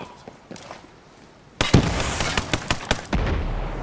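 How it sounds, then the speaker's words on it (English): An incoming rocket blasts in Ghost Recon Breakpoint at the Maunga Nui port: after quiet ambience, a sudden loud explosion erupts, followed by a run of crackling pops and bangs. "Got a rocket coming."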